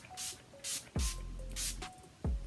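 Makeup setting spray for oily skin misted onto a face in several short pumped bursts, each a crisp close hiss with a faint click, evenly spaced and heard alone.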